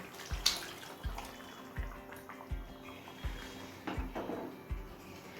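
Hot water goes into a broccoli and paneer curry cooking in a pan, a soft splashing pour heard close up alongside regular faint thumps, fairly quiet with no talking.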